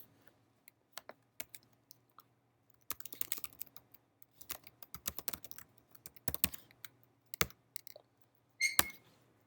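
Fingers tap a computer keyboard in scattered bursts of quick clicks, near and fairly faint, with pauses between flurries and a sharper key press near the end, no talk.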